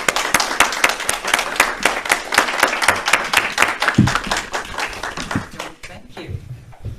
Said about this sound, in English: let's give Reverend June a round of applause.